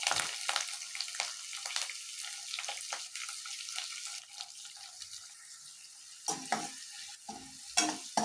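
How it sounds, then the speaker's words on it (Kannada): Finely chopped onions sizzle in a hot pan with curry leaves, a bright steady hiss broken by occasional stirring scrapes, fairly quiet and close, with no talking. "ಇವಾಗ ಸಣ್ಣದಾಗಿ ಹಚ್ಚಿರೋ ಈರುಳ್ಳಿ ಹಾಕ್ತಾಯಿದ್ದೀನಿ."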